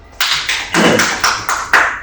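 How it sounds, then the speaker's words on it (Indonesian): Applause for a speaker at an Indonesian teachers' session, heard as a few sharp, close claps in an uneven rhythm, about seven distinct hits in two seconds with no talk over them. "Kita beri tepuk tangan Dr. Irfan."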